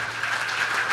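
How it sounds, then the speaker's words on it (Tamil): A church congregation at a men's fellowship camp claps together, a dense, even wash of hand clapping for about a second. "கைத்தட்டி கர்த்தரை மகிமைப்படுத்துங்க."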